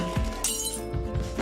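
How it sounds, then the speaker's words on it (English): Glass shatters in a PC video game, a sharp bright crash followed by scattered tinkling fragments over a low background hum. "Shattered glass."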